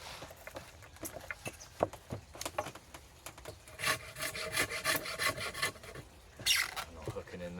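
A wood rasp scrapes a stick being shaped on a spoke horse, giving repeated short rubbing strokes in irregular bursts, close and moderately loud.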